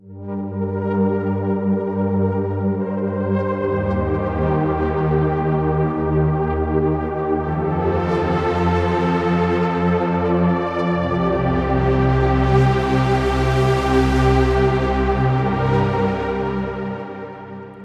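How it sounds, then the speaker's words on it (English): A huge, slightly unstable synth pad named 'synth journeys' from a deep and melodic house soundbank for Diva swells and drifts continuously, loud and dense, with brightening sweeps and no voices. "Then we have synth journeys, which is a huge pad as well"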